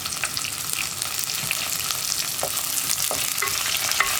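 Onions, dried red chillies, split green chillies and curry leaves frying and being stirred in a pan for a pumpkin and raw plantain curry, a steady close sizzle with intermittent scraping clicks of the spoon, no voices.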